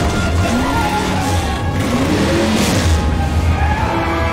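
A truck in the video game Left 4 Dead 2 roars loudly as its engine revs and drives off, with shifting engine tones over heavy game noise.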